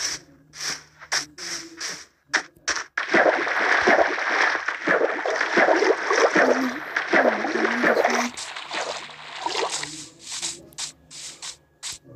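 Water splashes and sloshes in Minecraft in repeated bursts, with a longer stretch of churning, gurgling movement in the middle, separated by short quiet gaps.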